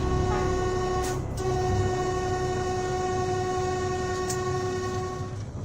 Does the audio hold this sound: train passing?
yes